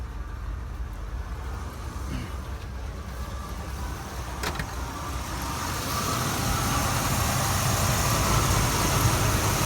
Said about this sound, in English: Still laboring. It's almost like we got a dead cylinder at the moment here.